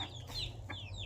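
Soft clucking from a frightened hen, a few short calls scattered over a steady low hum, fairly quiet and with no talk.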